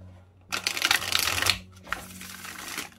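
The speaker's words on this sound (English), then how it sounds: "I'm just gonna do a few shuffles. So to really mix in these cards" A tarot deck is riffle-shuffled up close, two quick crisp bursts of fluttering, ratcheting card clicks, the first longer and louder than the second, with no voices over them.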